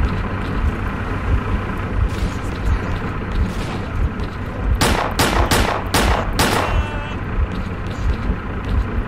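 Gunfire in the shooter game S.T.A.L.K.E.R.: Clear Sky: a quick burst of several sharp shots cracks out midway through a steady rumble of game ambience.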